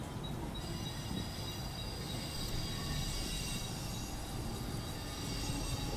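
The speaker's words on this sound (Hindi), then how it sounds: "CSMT बदलापुर फास्ट लोकल और CSMT डोंबिवली स्लो लोकल एक दूसरे के साथ पैरेलल करते हुए CSMT स्टेशन से" Mumbai local trains pulling out of CSMT station side by side, a steady loud rumble of rolling wagons with a thin high wheel squeal running throughout.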